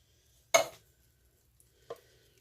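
A spoon stirring ham and bean soup with added canned diced tomatoes in a pot gives one sharp scraping clatter, then a second softer clink a moment later, close and otherwise quiet.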